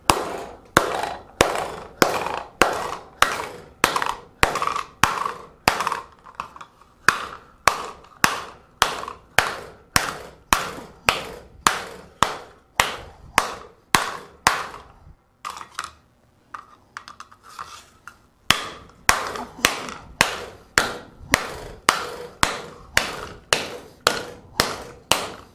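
Hammer blows ring out on hot metal while a fold formed bowl is forged, a steady run of sharp, loud strikes with a short pause midway before the rhythmic hammering resumes.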